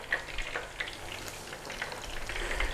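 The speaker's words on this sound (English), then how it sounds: "frozen chip as it hits the hot oil" Frozen chips sizzle and crackle steadily in hot frying oil, a dense close-up hiss with scattered pops and spits throughout.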